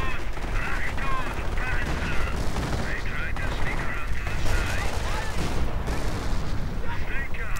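Machine-gun fire from Panther tanks in a World War II strategy game rattles in dense, continuous bursts, mixed with distant artillery booms and battlefield noise, with a voice talking over it.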